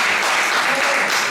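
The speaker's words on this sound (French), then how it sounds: "On va acclamer encore le Seigneur." A church congregation applauds together to acclaim the Lord, a dense, steady wash of clapping filling the space throughout, with some voices mixed in.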